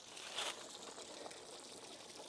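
Water drains steadily from an RV's open drain plug in a soft, continuous trickle, faint and unbroken and without talk.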